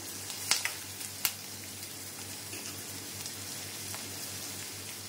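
Onions sautéing in a pan for drumstick masala, a faint, steady sizzle with a few sharp clicks of a utensil against the pan early on.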